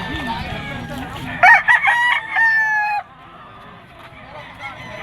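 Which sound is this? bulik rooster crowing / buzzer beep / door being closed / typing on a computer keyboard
bulik rooster crowing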